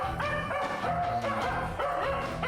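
A stray male dog barks and yelps in quick, agitated bursts during an evacuation after a landslide, several sharp barks close by with whimpering tones between them.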